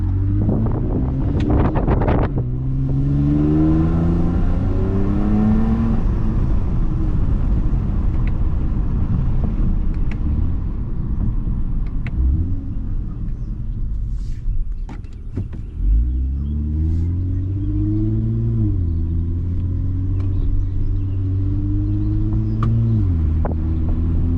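A Toyota Camry TRD V6 engine with its resonator deleted climbs through its revs with a deep, rising exhaust note, eases off, then revs up again, loud and close with some wind buffeting.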